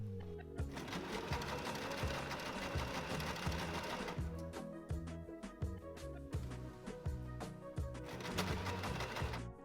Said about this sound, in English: when the machine gets to them, you can easily pull them out and continue sewing